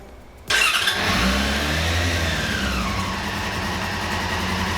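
A Suzuki DR-Z dual sport motorcycle engine cranks and catches after a short quiet moment, then runs with a loud close rumble that briefly revs and settles into a steady idle.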